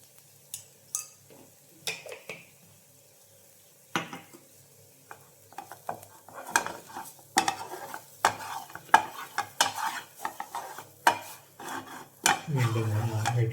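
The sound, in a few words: stirring spiced mixture in a pan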